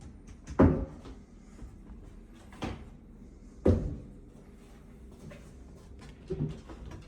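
A hotel suite's wardrobe door is handled, giving a few dull knocks and thumps spaced apart in a quiet room with no talking.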